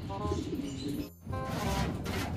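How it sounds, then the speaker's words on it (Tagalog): A racing pigeon coos close by in low, soft, repeated throaty notes, with faint background noise around it. "pangalawang bumalik sa mga ibon natin si Grisel"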